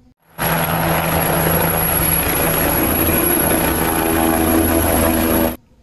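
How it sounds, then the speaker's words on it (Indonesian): A steady, loud helicopter engine drone with a rotor-like hum starts abruptly and holds constant for several seconds before cutting off, no voices present. "Ini adalah helikopter."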